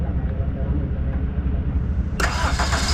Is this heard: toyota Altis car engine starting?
yes